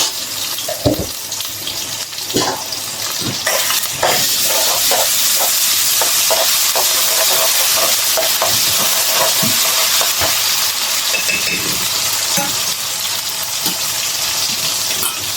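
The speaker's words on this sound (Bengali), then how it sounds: "একটু আদা রসুন পেস্ট দিয়ে দিলাম" Ginger-garlic paste sizzling and frying in a pan for a chicken and prawn dish, with a steady loud crackle and repeated scraping stirs throughout, no talking.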